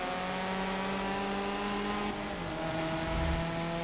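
A 1987 Ford Sierra Cosworth RS500 touring race car accelerates in Forza Motorsport 7, its engine holding a steady, loud, up-close drone that shifts pitch partway through, with no talk over it.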